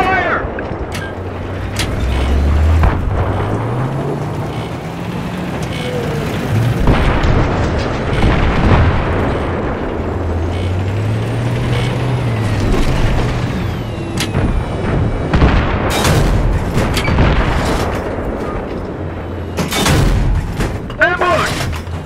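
Tank cannon firing sabot rounds in Battlefield 3's Thunder Run mission: loud deep booms and bursts of battle noise that keep recurring, mixed with engine rumble and shouted voices.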